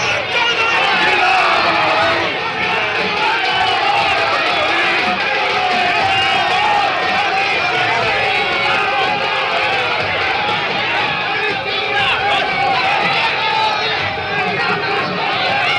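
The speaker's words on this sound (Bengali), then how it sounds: "তৃণমূল কংগ্রেস কর্মী সমর্থকরা গো ব্যাক স্লোগান দিচ্ছে" A large crowd of Trinamool Congress party supporters chanting "go back" slogans at an election campaign in Baharampur, a dense continuous roar of shouting voices, loud and close, sustained throughout without letup.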